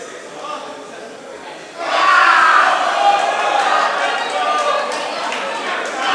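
Wrestling arena crowd reacting during a match, a broad roar of shouting and chatter that swells suddenly and stays loud, with a commentator talking over it.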